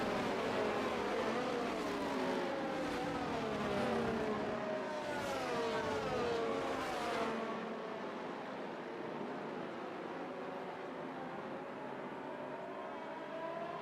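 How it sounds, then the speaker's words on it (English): Race cars in a Schumacher Series sim race following the safety car past Les Combes, a loud sustained engine drone from the nose-to-tail field that gradually fades and lowers, with no talk. "Safety car coming down through Les Moss at the moment."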